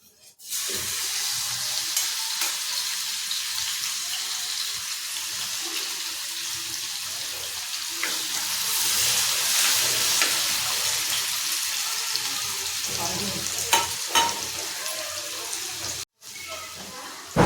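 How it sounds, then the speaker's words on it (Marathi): Garlic frying in hot oil for a fish curry, giving a continuous broadband sizzle with occasional stirring clicks. It holds steady for about fifteen seconds, briefly cuts out, then resumes. "तेल तापलं की त्यात आपण अगोदर लसूण टाकायचं आहे."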